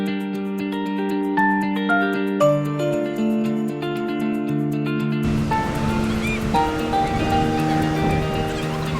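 Sea waves wash onto Kujukuri beach beside an auto campground, a broad hiss that swells mainly in the latter half, while steady tonal chimes ring clearly over it from the start.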